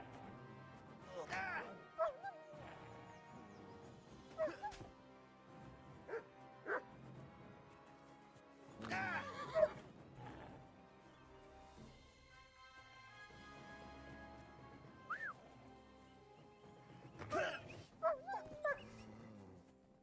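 In the video game Kingdom Come: Deliverance II, a dog barks and whimpers in scattered bursts amid combat noise and talking voices, mostly faint with a few sharper peaks.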